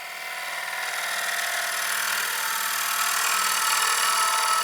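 A bottom bowl gouge cuts a bowl spinning on a wood lathe, producing a steady hissing, scraping shear that swells slightly as the cut goes on, with no voices.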